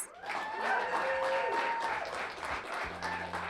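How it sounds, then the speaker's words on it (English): Audience applauding after a poetry performance at a community cafe event, steady clapping filling the room with a few tonal background sounds drifting over it. "And keep the applause going for Alejandro Jimenez."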